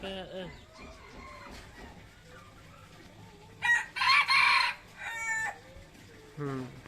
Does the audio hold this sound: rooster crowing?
yes